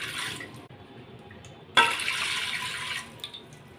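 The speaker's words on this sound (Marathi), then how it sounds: "कुकरमध्ये आपल्याला पाणी ओतून घ्यायचं आहे" Water splashes and rushes into a metal pressure cooker in a steady stream, with a sharper surge partway through, close by and with no voices.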